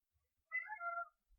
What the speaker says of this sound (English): look at the kitties coming to listen to you.